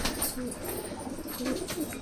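Pigeons in a loft coo softly in low, rounded notes over a faint, busy background hum, with no voices.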